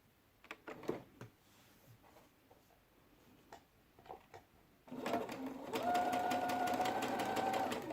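A domestic sewing machine stitches the hem of a homemade cotton face mask. A few light taps and handling clicks come first, then the machine runs in a loud, steady whirring burst close by.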